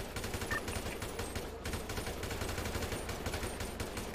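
Rapid gunfire from a multiplayer shooter game during a 6v6 match at the Megamall map, dense overlapping bursts continuing loudly throughout with no break.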